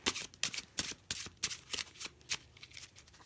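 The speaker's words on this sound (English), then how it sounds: "just shuffle the cards below it" A deck of playing cards is shuffled by hand, giving quick crisp riffling bursts and flicks in an uneven rapid rhythm, close and clear with no talking.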